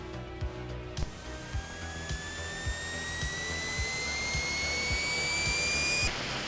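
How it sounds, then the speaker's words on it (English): Synthesized jet engine powering up, a Commodore 64 SID chip effect in the video game Raid Over Moscow: a steady rising whine that climbs in pitch over several seconds, with rhythmic low electronic thumps pulsing underneath. "Listen to the sound effect of this jet powering up."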